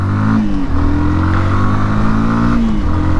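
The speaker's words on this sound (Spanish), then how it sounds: "no se despeguen, vamos a acelerar duro" A SYM NH Trazer 190i motorcycle accelerating hard, its engine close and loud in a continuous droning roar whose pitch climbs, dips briefly at a shift, then pulls upward again.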